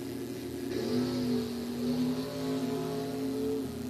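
Drag race cars at Fall Bracket Nationals rev and build toward launch, a steady loud engine drone with rising harmonic tones held across several seconds.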